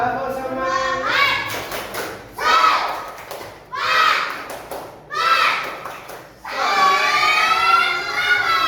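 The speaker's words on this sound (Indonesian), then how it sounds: "Ayo, kita lagi. Tepuk semangat." Students in a classroom repeat the 'tepuk semangat' spirit clap in a lively morning lesson, with several bursts of rhythmic group claps and thumps alternating with loud chanting children's voices, all close by.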